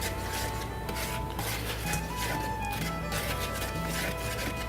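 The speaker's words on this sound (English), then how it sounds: "I'm gonna get my wire whisk anyway, because I wanna get the cinnamon mixed in with my flour." A wire whisk stirs cinnamon into flour in a home kitchen bowl, giving steady close scraping and rubbing strokes throughout with faint clinks against the bowl and no talking.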